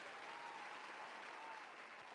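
Faint cheering and clapping from a crowd, played back over the speakers of a live show, a steady distant wash lasting about two seconds.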